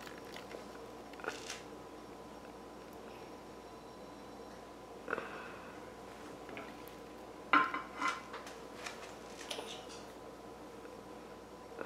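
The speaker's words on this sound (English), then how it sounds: "I'm just gonna now smooth this out. It's just one of my flat inside spatulas." A flat spatula smoothing and scraping sticky Turkish delight mixture in a pan or tray, with soft intermittent scrapes and a few sharper clinks and knocks of utensil on container, close by, quiet and with no talk.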